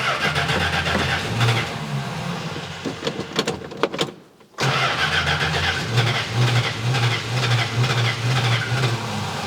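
An old Plymouth Barracuda's engine cranks, catches after a brief drop-out and settles into a loud, rough, uneven idle close by, with no talk.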